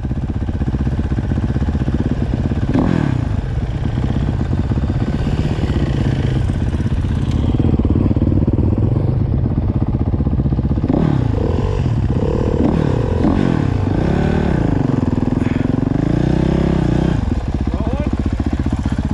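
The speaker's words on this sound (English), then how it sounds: "Dude, I don't even want to turn off the bike." Motorcycle engine running on a snowy ride, a loud continuous idle with rough mid-range rumble and a few revving swells, with people talking over it.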